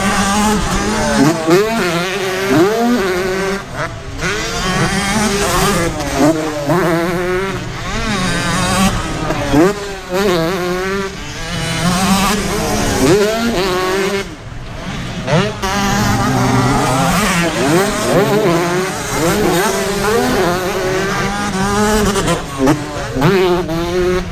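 Several 125cc motocross motorcycles race at a French motocross event, engines screaming loud and close with repeated rising and falling revs as bikes accelerate, shift and pass, continuous throughout.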